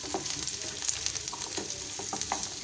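Small-cut bottle gourd pieces frying with golden-brown onions in a pan, giving a soft, continuous sizzle with light stirring scrapes, fairly quiet and close.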